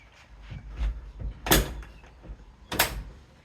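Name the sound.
car door being closed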